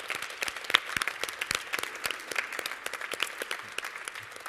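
Audience applause at a 2015 spelling bee, a steady patter of many hands clapping throughout, moderately distant and fairly quiet, with no talking over it.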